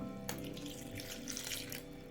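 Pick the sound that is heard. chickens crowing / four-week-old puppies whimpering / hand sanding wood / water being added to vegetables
water being added to vegetables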